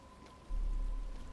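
Rain falling in the video game Batman Arkham Asylum, a steady hissing wash that swells into a heavier, low rumbling downpour partway through, with no speech.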